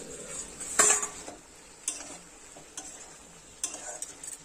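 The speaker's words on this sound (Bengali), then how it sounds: "এবার কিন্তু 2 থেকে 3 মিনিট আবার নাড়াচাড়া করে নেব" Chickpeas and potatoes cooking for ghugni are stirred in a pan, with a sharp metallic clink at the start followed by softer scattered scrapes and light sizzle, close and without speech.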